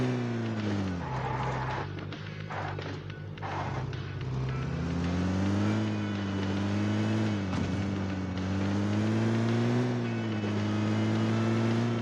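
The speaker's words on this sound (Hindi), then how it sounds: "गाड़ी भाई ऊपर नीचे उछल रही है।" A car in PUBG Mobile on the Erangel map drives while bouncing over uneven ground, its loud, steady engine drone rising and dipping in pitch throughout, with no talking.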